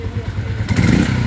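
A motorcycle engine idles steadily and evenly after two valve seals were replaced, its low, even running close by and sitting under a voice.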